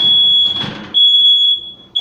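A smoke alarm shrieks with a piercing high tone, sounding in loud repeated bursts close by, set off by an overcooked pie crust in a kitchen.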